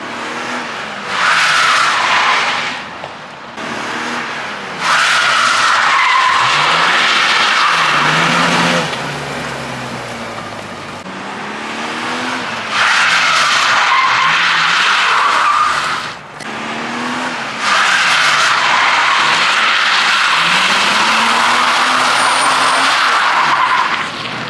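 A car drifting on a track during a drift lesson, with engine roars rising and falling and long tire squeals and skids repeating in several loud, close passes throughout.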